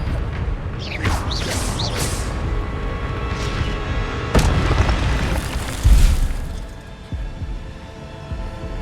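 Spells crack in Hogwarts Legacy as a wizard duel plays out, with whooshing magical bursts and several heavy thuds and booms landing at irregular intervals over a constant rumbling background.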